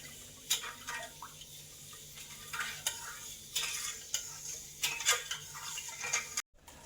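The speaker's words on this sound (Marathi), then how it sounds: "पाकाला असं थोडंसं हलवत राहायचं।" Sugar syrup for gulab jamun being stirred in a pan, with repeated spoon scrapes and clinks at an uneven rhythm over a faint bubbling background.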